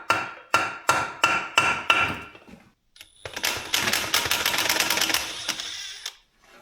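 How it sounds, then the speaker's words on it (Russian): Six sharp metallic hammer blows in an even rhythm drive a hex key into a stuck bolt on a MAZ truck, followed after a pause by a rapid, dense burst of rattling metallic strikes. "Попробуем забить шестигранник сейчас."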